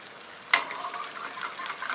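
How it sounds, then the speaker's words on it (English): Fresh sage leaves dropped into melted butter in a pan, with a sharp burst of sizzling on contact settling into a steady, lively fry close by, no talking. "So the butter is coming up now. It's melted. I'm going to add the sage."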